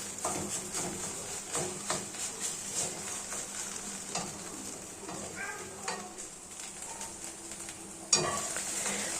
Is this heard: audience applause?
no